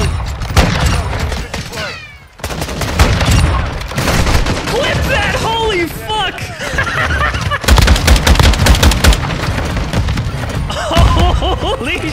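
Marksman rifle gunfire in Call of Duty MW2, dense volleys of sharp game shots layered with other weapon fire and thumps throughout, while players talk and shout over it.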